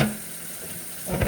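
Chicken pieces are rinsed under a running tap, giving a soft, continuous wash of water that swells briefly at the end.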